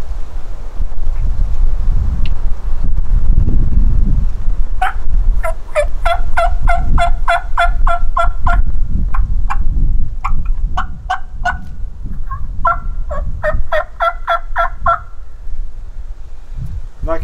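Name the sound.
turkey call imitating gobble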